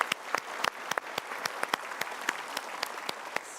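An audience claps together in steady, scattered applause, moderately loud throughout, with no voices over it.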